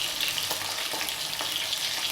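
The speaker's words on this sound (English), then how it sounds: "whether you want it to be fried until it is crispy or you want to be fried but still yet moist" Fish frying in a pot of hot oil, a steady, even sizzle with fine crackling that holds at moderate loudness throughout, with no voices.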